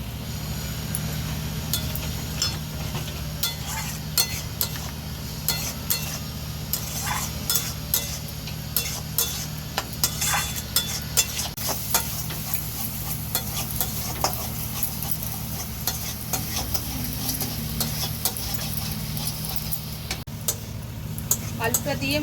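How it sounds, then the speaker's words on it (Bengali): Fried potatoes and spices stirred and sautéed in a pan with a splash of water for patal chingri, a steady sizzle under frequent scraping and clinking ticks of a spatula, close and continuous throughout. "ভাজা আলুটা দিয়েছি, এবার সামান্য পরিমাণে একটু জল দিয়ে আলুটা দিয়ে ভালো করে কষে নেব"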